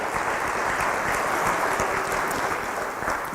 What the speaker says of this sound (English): Please give them a second round of applause.